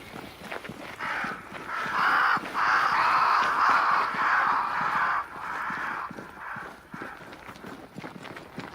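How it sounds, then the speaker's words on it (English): Crows caw in a sustained, loud chorus in the video game Banishers: Ghosts of New Eden, flocking around a great tree, with hoof-like thuds and footsteps underneath and no talking. "Crows. They flock to that great tree up there."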